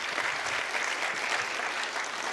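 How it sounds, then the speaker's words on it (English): A seated audience at an energy policy event applauds elected officials, a steady dense wash of clapping from many hands that stays even throughout. "I'm going to ask you to give them one more round of applause"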